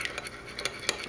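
Egg whites and honey mixed in a bowl for a homemade blackhead remedy, a quiet run of light, quick whisking taps and scrapes with a few sharper clinks, close and alone.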